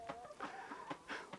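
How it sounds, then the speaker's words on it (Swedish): Hens in a farm tunnel on a small-scale farm cluck and murmur, a close, soft run of short repeated calls with uneven rhythm. "Och då kommer det att handla om de här hönsen"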